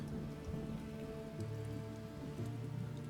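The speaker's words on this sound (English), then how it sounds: "you taste the rain rolling down your cheeks, salty air" Steady rain patters on a surface in a continuous, even hiss with fine drop detail, a low rumbling bed beneath it and no voices.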